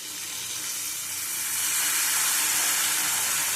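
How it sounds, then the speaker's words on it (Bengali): Mustard powder water hits a hot pan during a Bengali eggplant and parshe fish recipe, setting off a loud hiss that builds and holds as a steady, bright sizzle, with no talk. "এবার সর্ষের পাউডারের জলটা দিয়ে দেবো"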